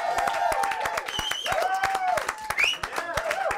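A TV show audience claps and cheers for a musician taking his place behind the drums, with dense, sharp hand claps and whoops close by and voices mixed into the applause.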